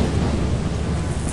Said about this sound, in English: Wait for the next lightning to hit it.